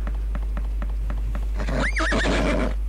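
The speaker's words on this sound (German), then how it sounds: "Pferd, was ist denn? Wie es rummeckert, jammert." A horse in the Lissy horse video game gives a few steady hoof clip-clops, then lets out a clear, wavering neigh that rises and falls near the end, close and prominent.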